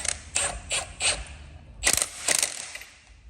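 A ratchet clicks in quick bursts while tightening a bolt on a Jeep Cherokee SRT engine, four sharp rhythmic runs of clicks, a pause, then two more, close and fairly quiet.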